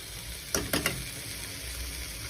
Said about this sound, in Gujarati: હવે સરસ મિક્સ કરી દઈશું।